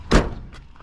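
A single solid car door slam on a 1985 Pontiac Trans Am, a heavy low thunk up close, followed by faint rattling and quiet settling sounds.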